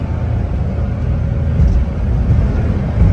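A Honda Street kei van cruises along a road at around 90 to 95 km/h, a steady low engine and road rumble from inside the cabin that swells slightly toward the end, with no talking.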